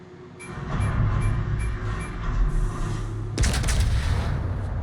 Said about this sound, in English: I just like the sound of the HE shells off the Japanese cruisers